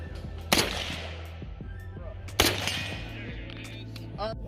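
Two loud, sharp reports from a SOCOM 16 rifle ring out about two seconds apart, each trailing off into a long echoing decay, with a low background rumble and faint noise throughout.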